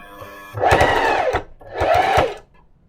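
A sewing machine stitches hoodie cuffs through heavy seams in two close, loud bursts of rapid whirring, each about a second long, separated by a short pause.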